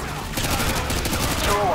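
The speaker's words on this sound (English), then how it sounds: "Roger, firing javelin." A Javelin missile fires in Call of Duty: Modern Warfare 2, a loud, rough blast and rushing roar filling the short moment amid battlefield noise.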